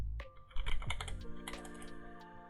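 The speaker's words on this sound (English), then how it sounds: "Let's type it." Someone types a password on a computer keyboard, a quick, close burst of sharp key clicks lasting a couple of seconds, with no talking.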